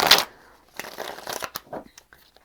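Tarot cards riffled and shuffled by hand, a quick burst of papery card flicks at the start, then a run of softer rustling and shuffling sounds up close with brief pauses.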